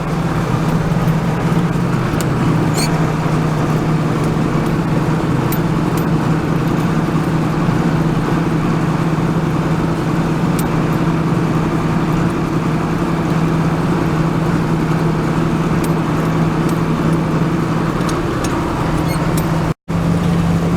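A John Deere 4640 tractor pulling a hay rake through big windrows, its engine droning in a steady, loud, continuous hum from the cab with a few faint clicks and no talking.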